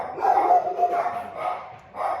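A pet dog barks repeatedly in a series of close, fairly loud barks with short gaps between them, with some faint voice mixed in.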